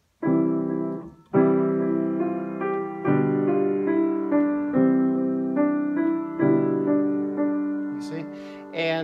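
Piano playing Ode to Joy with both hands at equal weight so the melody is not brought out, steady chords and notes ringing near and clear, alone with no talk.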